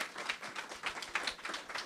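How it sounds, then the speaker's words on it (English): Scattered applause from a small crowd, soft irregular clapping that rises and falls steadily for a couple of seconds, no voices. "Can we give them a round of applause"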